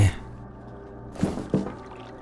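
Water sloshes in a grimy sewer in the shooter game F.E.A.R., with two short splashes close together over a quiet, low ambient hum.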